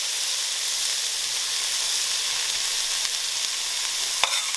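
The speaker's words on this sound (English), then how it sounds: "put our peppers. Yeah, that sizzle, baby. Yep. Sizzling." Steady, bright frying sizzle of peppers sweating in a hot pan for jambalaya, continuous and close, with a faint clink near the end.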